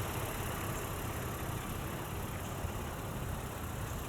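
A 2023 Honda Pilot TrailSport's naturally aspirated 3.5-liter V6 runs with a steady, even drone, heard from inside the cabin as a continuous muffled hum mixed with broadband road noise.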